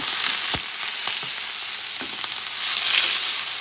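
Raw wild shrimp frying in a hot pan for Alicante-style paella, a steady loud hiss of sizzling oil with a few soft clicks and scrapes from the pan, no voices.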